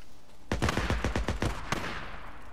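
A rapid burst of about eight sharp gunshots in the video game Days Gone rings out in quick succession, followed by a single final shot, close and punchy with reverberant tails.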